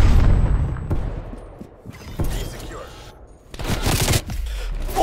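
Gunfire in Call of Duty Cold War, with loud bursts of shots and heavy booms separated by short quieter gaps, close and punchy, while a player talks between them.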